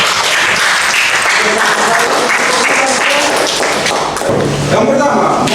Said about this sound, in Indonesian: Kita berikan aplaus untuk kelompok ini